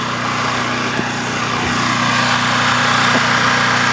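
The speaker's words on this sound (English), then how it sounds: "Hold that while I drill." A power drill runs steadily during construction work, a continuous close motor whine with a constant hum and slight pitch shifts, heard alone without talk.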